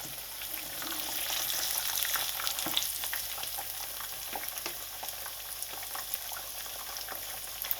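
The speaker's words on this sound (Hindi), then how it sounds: "मछली बहुत अच्छे तरीके से पक रही है।" A whole fish frying in a pan over low heat gives a steady, dense sizzle with crackling oil pops throughout, close and continuous with no voices.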